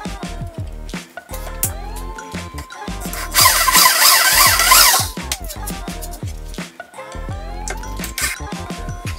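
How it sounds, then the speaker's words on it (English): A power drill cuts a countersink into wood for a truck bed camping kitchen drawer, a loud steady whine of about a second and a half standing out from scattered workshop clatter and knocks before and after. "So I'm just going to drill a bit of countersink"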